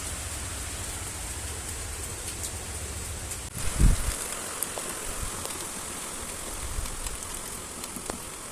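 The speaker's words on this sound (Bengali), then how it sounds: "বাহিরে দেখেন কিরকম প্রচুর বৃষ্টি।" Heavy daytime rain pours outside under a darkened sky, a steady close hiss of drops on surfaces with a brief thud partway through and no voices.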